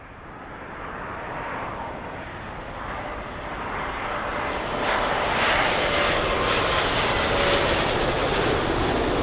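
A 23-year-old Boeing 777 arriving at London Heathrow runway 27L after a long flight from San Diego, its engine roar building gradually and steadily louder as it approaches, no voices.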